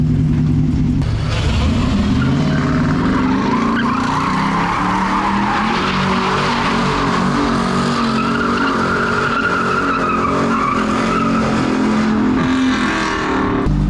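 A loud car spins and slides with traction control off, its tires squealing in long rising and falling wails over a roaring engine for the whole stretch, with faint voices in the background.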